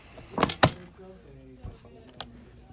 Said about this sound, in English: And then I click the binding in.